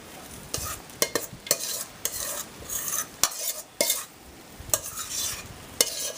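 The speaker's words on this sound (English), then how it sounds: "We're just going to kind of spoon some over the top." A spoon scrapes and taps against a bowl while warm bacon apple stuffing is ladled over pork chops in a cast iron pan. The clinks come in a quick irregular series, with a light sizzle underneath.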